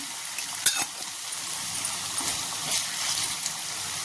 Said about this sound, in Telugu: బంగాళం ముక్కలు మంచిగా ఫ్రై చేసుకున్నాం ఇందులో ఇప్పుడు ఒక హాఫ్ స్పూన్ పసుపు వేసి కలుపుకుందాం